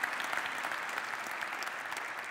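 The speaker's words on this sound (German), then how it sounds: "Ein kleiner Applaus vielleicht für Frau Hölzner" Applause from the audience at a panel discussion at an equity conference in Berlin, a steady wash of many hands clapping throughout, fairly distant and even, with no talk over it.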